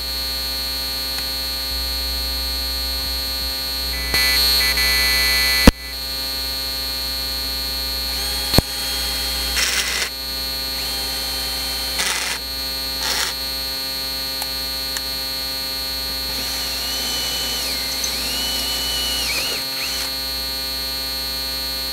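A power drill bores into a recycled utility sink, giving a steady, loud motor whine under a constant hum, with several rougher bursts as the bit grinds into the material.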